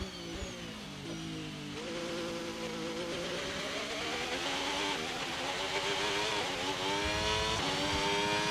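Racing car engine in the F1 25 video game, a wet-weather run at Shanghai, giving a high whining drone whose pitch climbs and drops repeatedly through gear shifts, sustained and fairly loud with no talk.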